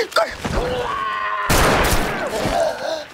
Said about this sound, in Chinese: 突然听到枪声